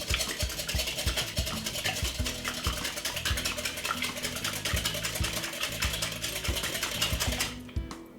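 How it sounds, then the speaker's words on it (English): Two eggs are whisked briskly in a bowl, producing a steady, rapid clatter of regular clicks that carries on for several seconds and stops abruptly at the end. "2 eggs in a bowl like this, and simply give it a quick whisk"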